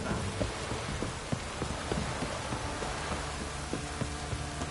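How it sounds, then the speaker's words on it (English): Steady heavy rain pouring down in a video game, a dense continuous hiss with scattered drops pattering on a surface. "This downpour's a bastard"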